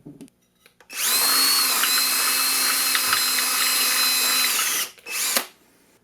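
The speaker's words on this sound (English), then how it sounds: "Okay, so we have our hole drilled." A power drill bores a hole through the center of a homemade wrist roller, a steady high whine that runs about four seconds before stopping, then a short second burst, loud and close with no talk.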